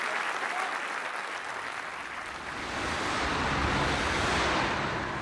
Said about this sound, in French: Gérard Lanvin et notre ami Benoît que l'on raccompagne sur les applaudissements.